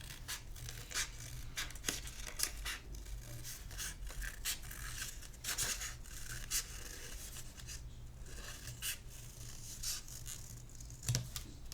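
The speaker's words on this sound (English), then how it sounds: "Okay, so cut the white part out." Paper is cut by hand with scissors, giving repeated scraping snips and rustles at close range, intermittent and fairly quiet, as the white part is trimmed out during an art lesson.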